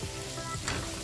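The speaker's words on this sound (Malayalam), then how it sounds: "ഈ ഗ്രേവി ഒഴിക്കാം." Hot oil with chilli powder and turmeric gives a steady close sizzle as spinach gravy goes in for palak paneer, with a brief louder hiss near the end.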